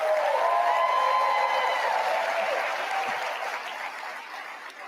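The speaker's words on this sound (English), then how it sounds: "Big applause for Turning Point USA" A crowd at a Turning Point USA event breaks into applause, a dense, sustained ovation with cheering voices on top that gradually tapers off over several seconds.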